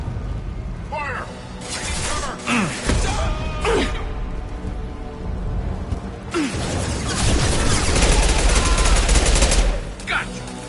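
Combat in Mass Effect 2 (Legendary Edition): bursts of gunfire with sharp shots and heavier volleys, a lull mid-clip, then sustained loud rapid fire from about six seconds, with voices calling out between the shooting.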